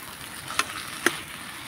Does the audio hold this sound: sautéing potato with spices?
yes